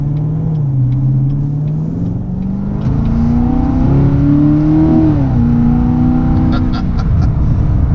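A Corvette Grand Sport engine revs up steadily in sport mode, its loud droning pitch climbing and dipping as it accelerates hard, with a throaty rumble throughout.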